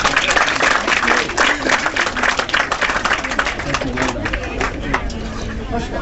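A graduation ceremony audience gives fathers a big round of applause, loud, dense clapping mixed with crowd chatter and voices that carries on without letup.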